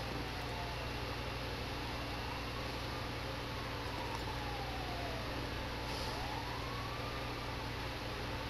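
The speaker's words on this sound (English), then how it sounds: "There's sirens." Wailing emergency sirens in Grand Theft Auto V after a car crash, several rising and falling tones sweeping slowly over a dense steady hiss and low hum, fairly faint and continuous.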